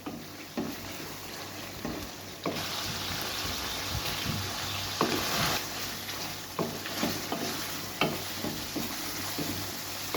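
Chicken karahi fries in mutton fat with kasuri methi added, a continuous close sizzle with repeated clacks and scrapes of a spoon stirring in the pan, with no talk.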